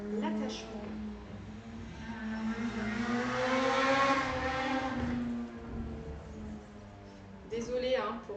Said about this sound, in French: il y a une moto qui est passée